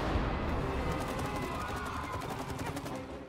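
Rapid gunfire from the video game It Takes Two, fired while fighting the robot wasp queen. A dense stream of quick repeated shots carries steadily throughout, fairly close, with no talking.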